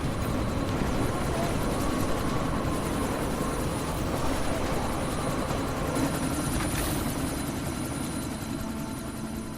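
A helicopter in the Deus Ex: Mankind Divided video game, a loud continuous rotor thump and engine roar holding steady throughout.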